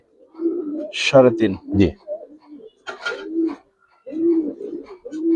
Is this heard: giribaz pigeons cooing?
yes